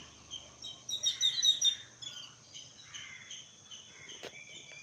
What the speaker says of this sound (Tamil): ஒரு மாதிரி சாம்பல் அண்டு எல்லோ கலரில் இருக்குது இந்த குருவி கேட்டில் உட்காந்துருக்கு